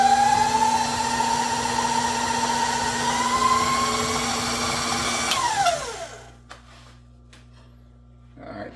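A stand mixer whirs at high speed, beating banana bread batter in a loud steady drone that winds down and stops near the end, leaving quiet room sound.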